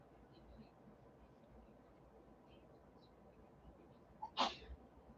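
A single sharp sneeze from a person, brief and fairly close, breaking an otherwise quiet room with low background hiss.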